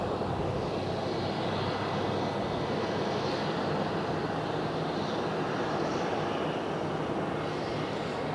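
An airliner roars at Phoenix airport in a loud, steady, continuous jet-engine drone that holds for several seconds, with no voices over it.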